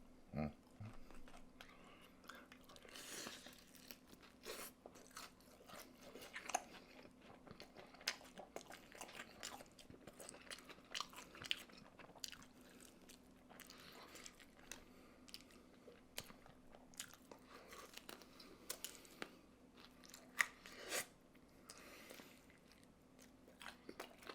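Quiet, close crunching as crispy Kyochon Honey Combo fried chicken is bitten and chewed, with scattered crackles over a faint steady hum.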